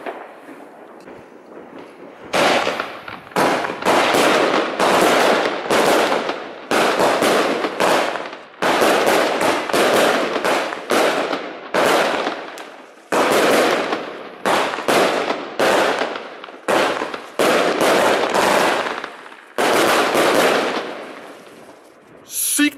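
A consumer fireworks cake fires at New Year's in a rapid, dense barrage of loud crackling bursts lasting about twenty seconds, with brief gaps between volleys and faint voices at the edges.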